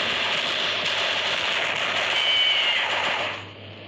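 Rapid automatic gunfire in the Mini Militia video game rattles on continuously and loudly, then drops away near the end.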